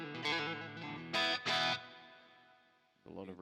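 Electric guitar through a Line 6 Helix plays a few separate strummed chords and notes, each trailing off into a long, washy reverb tail.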